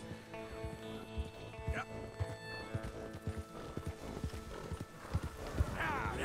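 Galloping hooves from a herd of horses being driven across open plains in Red Dead Redemption 2, with a steady clip-clop rhythm, a neigh or two and a voice calling and talking over the herd.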